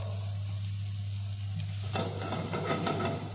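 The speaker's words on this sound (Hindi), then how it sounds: "अब हम इसे स्लो फ्लेम पे सौते करते हैं। ये सौते हो रहा है दोस्तों।" Chopped garlic, onion and mixed herbs sauté in a pan over a low flame with a continuous soft sizzle over a steady low hum. Stirring makes the crackle brighter and busier partway through.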